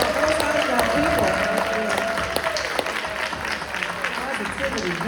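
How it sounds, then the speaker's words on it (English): Applause from the audience at a community mental health film screening and panel discussion, a steady wash of clapping mixed with crowd murmur and some voices, holding fairly even throughout. "Let's give them another round of applause."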